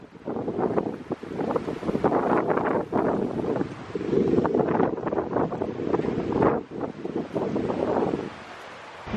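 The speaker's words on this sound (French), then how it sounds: "C'est vrai qu'il y a beaucoup de vent, c'est encore la tempête." Strong storm wind gusts hard across the microphone in a garden near Valencia, a continuous loud roar and buffeting that swells and dips throughout, with no voices.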